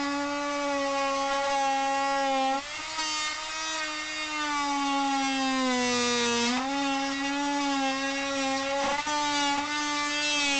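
A power tool buzzes steadily while cutting through a bitumen roofing shingle during a roof repair. The whine stays loud and close throughout, with brief dips in pitch where the blade bites into the material.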